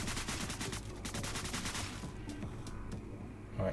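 A tactical submachine gun fires in the video game DeadBolt, with rapid bursts of loud automatic shots in a tight rhythm that break off partway through, followed by quieter game ambience.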